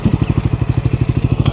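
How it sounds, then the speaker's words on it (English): A Triumph Scrambler 400X motorcycle riding along, its single-cylinder engine thumping in a steady rapid pulse, loud and close, with faint wind and road noise behind it. "Here we are on my Triumph 400X Scrambler."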